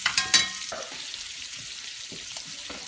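Oil sizzles in a pan on a hot stove while cooking biscuits and gravy, a soft steady crackle after a few quick clinks at the start.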